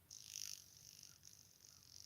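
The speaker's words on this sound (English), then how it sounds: "I've heard that kind of bug before." A buzzing insect, likely a cricket, drones steadily in the quiet countryside, a continuous high-pitched trill that swells briefly near the start and then holds at a moderate level throughout.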